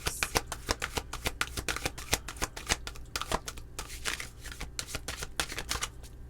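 Tarot cards are shuffled by hand in quick, crisp riffling bursts, close and fairly loud, with no talking over them.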